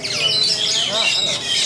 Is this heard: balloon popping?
no